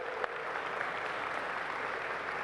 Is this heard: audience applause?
yes